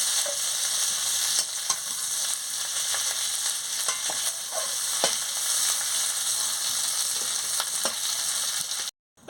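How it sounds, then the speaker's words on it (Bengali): Fish frying in hot oil, a loud, steady crackling sizzle with occasional sharp pops and stirring clicks that runs unbroken for several seconds before cutting off abruptly. "এবার মাছগুলো ভাজা হয়ে গেছে"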